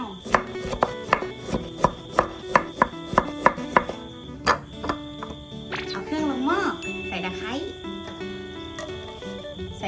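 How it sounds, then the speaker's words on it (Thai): Knife chopping lime on a cutting board while preparing Thai boiled chicken with fish sauce, about a dozen crisp, evenly spaced knocks, then a pause and a few more chops mixed with background music and a voice. "หั่นมะนาว"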